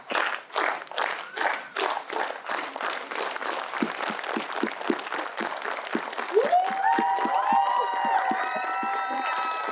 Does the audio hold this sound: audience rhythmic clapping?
yes